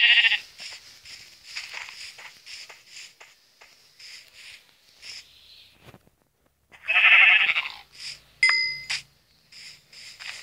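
Sheep in a Minecraft-style survival video game on Xbox bleat in short, repeated calls against quiet footsteps and game beeps, with a louder burst of bleating near the end.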